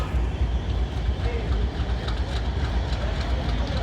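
Pakistan Express train running on the Faisalabad to Rawalpindi line, a steady loud rumble of wheels and heavy engine with faint clickety-clack, continuous and close throughout.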